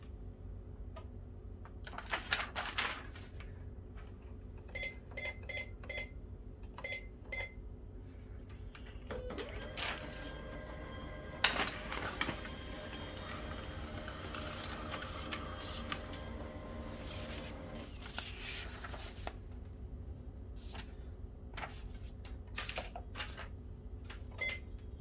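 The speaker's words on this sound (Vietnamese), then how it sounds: "Máy đã lót giấy, kéo giấy lên được rồi nha mọi người." HP LaserJet 3050 all-in-one printer pulling paper through after a pick-up repair: a steady mechanical whir with clicks and ticking rollers, a louder feed pass in the middle, fairly close and without talk.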